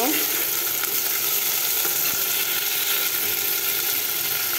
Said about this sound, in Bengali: এখন দেব টমেটো, আবার একটু নেড়ে দিব।